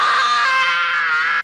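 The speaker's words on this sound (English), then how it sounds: "Kevin's many priceless screams." A boy's long, loud, sustained scream from the film Home Alone (the character Kevin), high-pitched and steady for over a second before cutting off abruptly.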